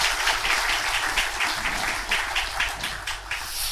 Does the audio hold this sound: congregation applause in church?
yes